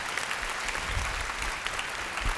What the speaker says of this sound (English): let's give another round of applause to Dr. Dove